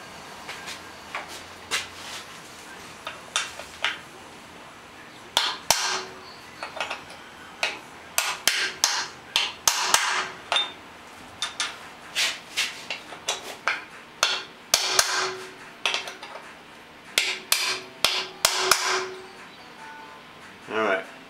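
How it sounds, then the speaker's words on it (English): Hammer blows on a steel transfer punch marking bolt holes for drilling on a big screen elevator build, sharp metallic strikes coming in irregular clusters across the whole stretch, near and loud, with faint background noise between them. "Let's go transfer punch the ones on the other side."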